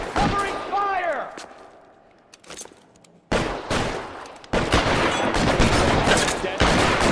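Bursts of gunfire from an L.A. Noire shootout, with heavy dense volleys crashing in after a quieter stretch that holds a shouted voice, loud and close, the firing rattling on continuously to the end.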